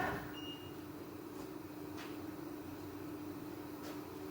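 A machine table jogs across to give clearance around a car wheel set up for boring its center hole, giving a steady, even mechanical drone with a faint tonal whine and a few soft ticks.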